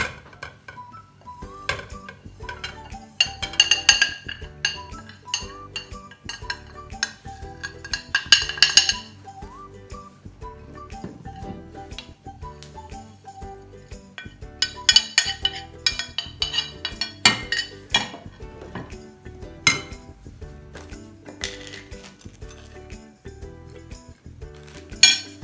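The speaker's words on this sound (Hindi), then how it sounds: "सब मसालों का आपने इकट्ठा करके इसको मिक्स कर लेना" Spices, lemon, soy sauce, vinegar and oil for a BBQ tikka boti masala get mixed in a bowl, with repeated clinks and scrapes of utensil against the dish and bursts of louder clattering between quieter stirring.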